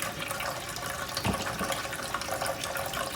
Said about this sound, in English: And I'm going to go ahead and pour that in the jar.